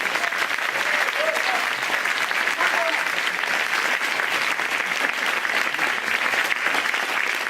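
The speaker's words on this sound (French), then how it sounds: "on va tous les applaudir d'abord" Audience at a Sciences Po contest final applauding the participants, a dense, continuous wash of many hands clapping at steady volume from start to finish.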